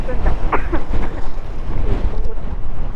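Gusty wind buffets the microphone with a steady low roar, while faint voices and some rustling come through underneath.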